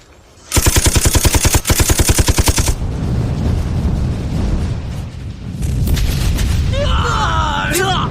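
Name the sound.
gunfire and explosions of an opening barrage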